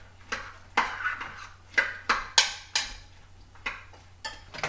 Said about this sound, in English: I'm just going to run my spoon through just to break them up just a hair